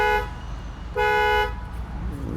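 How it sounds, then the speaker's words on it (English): Two honks of a car horn at a gas station, each a bright steady tone lasting about a quarter to half a second, separated by a short pause over low engine rumble, close and loud. "To obtain refueling services, honk your car horn twice."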